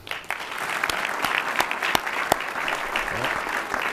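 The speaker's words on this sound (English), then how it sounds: "I just want to applaud him for that" Applause from attendees at a Wall Township Board of Education workshop meeting, a steady wash of clapping with several sharp, distinct hand claps standing out, close and moderately loud throughout.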